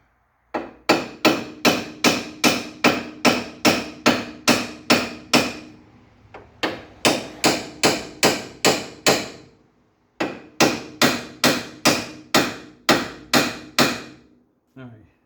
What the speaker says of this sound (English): I'm going to have to manipulate it with probably with a hammer